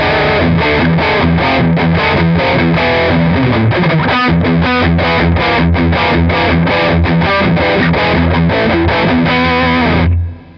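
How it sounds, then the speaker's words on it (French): Heavily saturated electric guitar through an analog distortion pedal into an AmS The One 50 combo amp, played in dense rhythmic chords for about ten seconds, loud and continuous, then cut off abruptly at the end; no talking. "Et j'ai une disto que j'utilise qui est pour moi le son relativement bien saturé."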